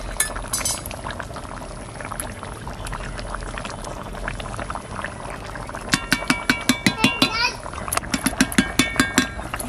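Ground spice paste going over a simmering fish curry with bottle gourd, a bubbling, wet simmer with a rhythmic series of spoon clinks and dabs, while someone talks and a voice is heard.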